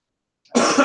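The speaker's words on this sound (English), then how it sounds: "I'm just going to cough" One short, sharp cough breaks out of silence in a classroom. It comes close and abrupt, and a throat-clearing rasp trails after it.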